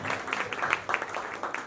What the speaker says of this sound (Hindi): तो एक बार इन दोनों के लिए जोरदार तालियां।